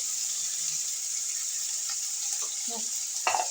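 Tomato, onion, ginger-garlic paste and turmeric powder fry in a pan with a steady, close sizzle, joined near the end by soft stirring scrapes and a brief clatter.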